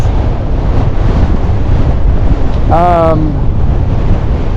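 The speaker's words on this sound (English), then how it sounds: "you can probably hear it's pretty windy" Strong wind on a mountain pass along the Pacific Crest Trail buffets the microphone with a constant roaring rumble, and a brief tonal whine rises over it partway through.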